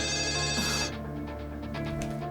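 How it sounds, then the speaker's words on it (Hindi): A telephone rings with a steady electronic trill that repeats, fairly close, over a constant low hum in the room. "इस फोन को भी अभी बजना था।"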